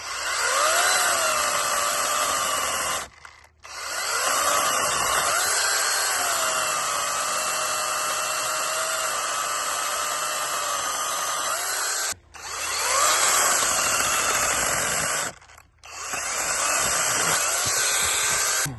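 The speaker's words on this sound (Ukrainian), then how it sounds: "давайте попробуємо на батареї 2 Ампер годин невеличку таку грушку попиляти" A ProCraft PKA 33 cordless saw on a 2 Ah battery whines steadily as it cuts through pear wood, with a few brief pauses where the motor stops and restarts.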